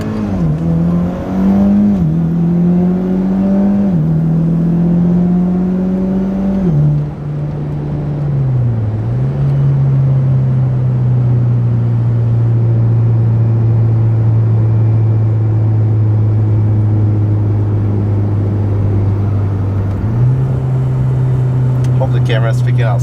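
A Mitsubishi Lancer Ralliart with an HKS part, heard from inside while driving, with a loud engine and exhaust drone that climbs through several quick shifts, then holds a long steady cruise before rising again, under someone talking.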